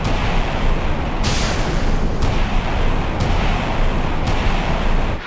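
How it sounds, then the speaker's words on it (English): Naval missiles, SM-6 over-the-horizon interceptors, launching from a US Arleigh Burke destroyer and Ticonderoga cruiser in the naval combat game Sea Power. A sustained, loud roaring rush is broken by about four sharp launch blasts in close succession. "allowing the SM-6 over the horizon missiles to be fired."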